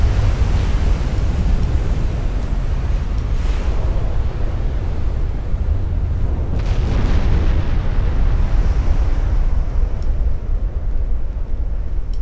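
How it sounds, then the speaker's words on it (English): Double flash fire explosion aboard a warship in Ultimate Admiral Dreadnoughts, a heavy rumbling roar of blasts with two distinct surging booms rolling over continuous low thunder, loud and sustained with no voices. "Oh, double flash fire."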